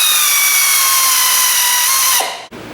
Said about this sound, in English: you can get an air ratchet in there